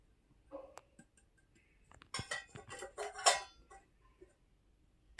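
Wheat flour and rice flour being mixed in a bowl: sparse clinks and taps at first, then a burst of quick scraping and clattering of a utensil against the bowl, close and without talk.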